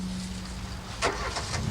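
A car at the former Evercreech Junction station, now a car park beside a superstore, gives a low steady engine hum with a brief louder swell partway through.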